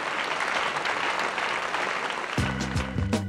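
Concert audience giving an ovation, loud dense applause filling the hall, with a music track cutting in underneath during the final second.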